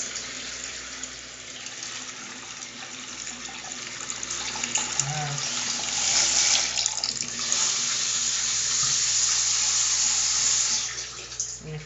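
Water runs steadily from a faucet into a newly installed above-mount sink, a continuous close rush of splashing that swells slightly louder partway through before easing near the end.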